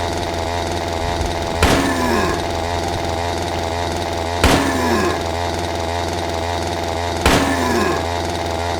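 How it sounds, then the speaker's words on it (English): In a horror video game, a chainsaw engine drones continuously and loudly, with a sharp revving surge roughly every three seconds, and nobody speaks. "I didn't want to listen to that goddamn chainsaw anymore"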